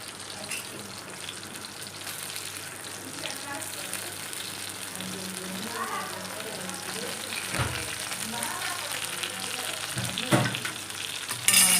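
Fish frying in hot oil with salt, a steady close sizzle and crackle running throughout with a few louder spatters and clinks, while a voice talks quietly in the background.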